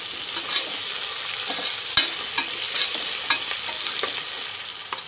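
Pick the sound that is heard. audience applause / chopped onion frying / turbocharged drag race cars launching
chopped onion frying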